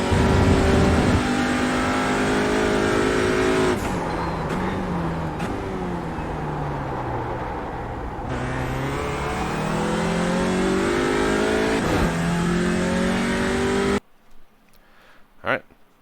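TCR touring race car at Sonoma climbing to full throttle, a loud close engine roar rising in pitch through repeated upshifts, then cutting off abruptly to near silence near the end.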